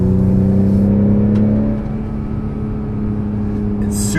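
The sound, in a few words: car accelerating in sport mode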